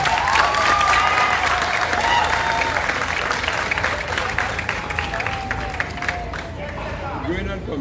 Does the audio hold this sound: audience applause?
yes